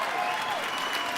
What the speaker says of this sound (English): I see the old school parents clapping right now